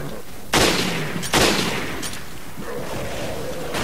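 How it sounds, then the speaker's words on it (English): A PSG-1 rifle fires in the video game Resident Evil: Revelations, two loud, sharp shots about a second apart over steady background game sound. "2 shots from the PSG-1 to take down a standard ooze"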